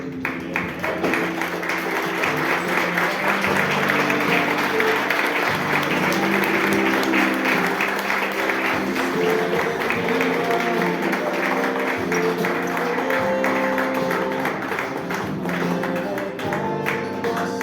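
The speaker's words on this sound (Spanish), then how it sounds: "¿Pudiéramos darle un aplauso a nuestro Rey?" A church congregation claps throughout a worship service, loud sustained applause layered over steady sustained musical tones that continue beneath it the whole time.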